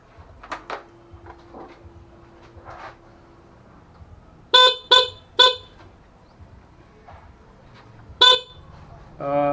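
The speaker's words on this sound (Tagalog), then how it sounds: "ganyan lang ang busina niya, talagang napakahina" A weak stock car horn gives three short, thin beeps in quick succession, then another single beep a few seconds later, with quiet clicks and faint handling noise before them.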